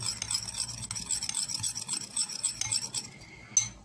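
Hair growth oils being mixed together in a small container, heard as quick, close scraping and stirring strokes in an irregular rhythm that stop near the end with a final light tap.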